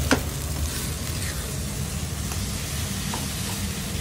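Brown rice fried rice being stir-fried in a pan, with a continuous sizzling hiss and occasional scrape of the utensil against the pan, close and steady with no speech.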